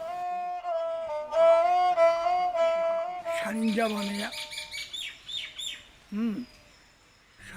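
Bird calls are imitated on a sarinda, a bowed string instrument with 10 to 30 strings: sustained warbling tones first, then sharp chirps, squawks and sweeping slides, close and clear with no speaking.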